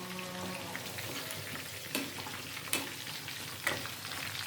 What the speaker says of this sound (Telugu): మా ఇంట్లో స్పెషల్ నేను చేస్తున్న చికెన్ ఫ్రై